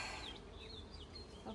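Honeybees buzzing at an opened hive during a hive check, a continuous dense hum with wavering pitches from many insects close by, fairly faint and steady.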